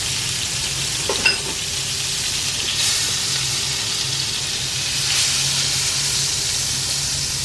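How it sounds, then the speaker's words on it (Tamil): Butter sizzles and fries steadily in a hot pan while cooking spot idli, a steady close hiss with a brief stir clatter near the start. "ஒரு டீஸ்பூன் வெண்ணெய் சேர்க்குறேன்"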